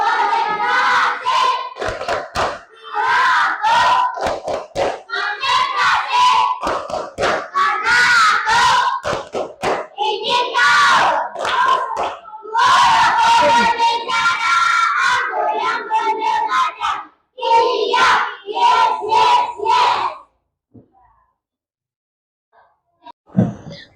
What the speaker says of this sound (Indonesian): Mari kita tepuk tangan semuanya